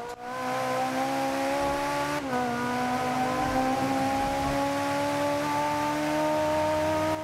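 A high-revving Ferrari sports car engine in the video game Forza Horizon 2 wails steadily with layered harmonic tones, briefly dipping as it shifts gear, then climbing again, loud and close with a slightly synthetic quality.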